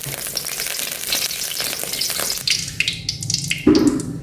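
Ground spices sauté in oil in a wok still holding leftover water, giving a loud continuous sizzle and frying crackle with spattering pops, punctuated by stirring scrapes near the end.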